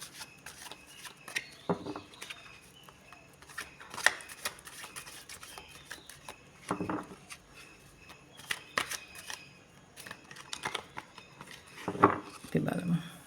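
Tarot cards are shuffled by hand in a series of soft, brief riffling and rubbing bursts spaced several seconds apart, fairly close and quiet.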